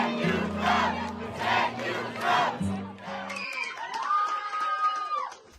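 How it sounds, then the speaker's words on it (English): Crowd gathered in Hostages Square to watch the release of hostages, a loud mass of voices cheering and shouting, with a low steady tone underneath for the first half and high whistles and calls standing out near the end. "Emotional scenes as crowds in Hostages Square gathered to watch the release of hostages"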